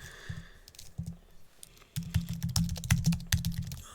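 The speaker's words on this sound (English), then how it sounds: "Typing too fast here" Rapid clattering keystrokes on a computer keyboard, close and busy, pausing briefly before a denser burst of typing.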